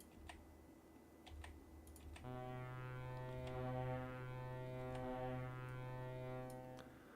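A ship's horn honking in the OpenTTD game, a long steady droning tone that swells in and holds for several seconds, with faint keyboard clicks tapping before it starts.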